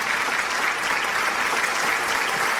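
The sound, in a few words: audience applause for a singer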